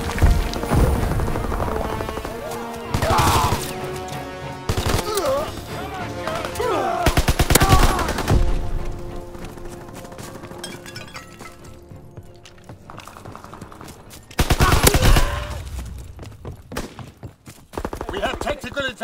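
Bursts of automatic gunfire from Call of Duty WWII hardcore team deathmatch, loud rapid volleys around 3, 7 and 15 seconds with quieter shots and battle noise between, plus brief voices.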